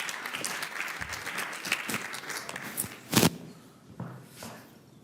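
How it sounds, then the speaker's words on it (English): Audience at a B2B SaaS sales leaders event applauding a speaker walking up to the stage, dense clapping that thins toward the end, with a couple of louder thumps partway through. "Please welcome him with a round of applause"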